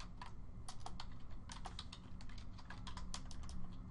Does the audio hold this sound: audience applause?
no